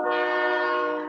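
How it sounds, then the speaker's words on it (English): A train's horn blares near a home beside the railway line, one steady, loud, multi-toned blast lasting about a second before it starts to fade, with no talking over it. "Bloody trains."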